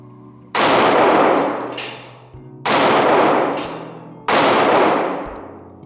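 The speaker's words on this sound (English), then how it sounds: "Let me try to hit some of these flippy pedals." Three loud, sharp metallic clangs spaced about two seconds apart, each ringing out and decaying, as pistol rounds from a Sig Sauer P365 X Macro strike steel flipper targets at an outdoor range.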